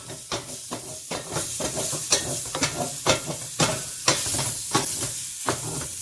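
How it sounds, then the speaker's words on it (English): Italian sausage sizzles steadily in a hot frying pan with a continuous crackling hiss, broken up by repeated scraping and stirring strokes close by. "let me go ahead and get this sausage fried up"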